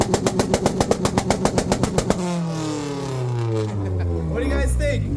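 A Honda CRX on two-step launch control at a car meet sound check, a rapid train of sharp popping limiter bursts for about two seconds, then a sustained loud rev that climbs and falls, with crowd voices underneath.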